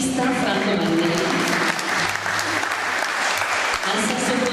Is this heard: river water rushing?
no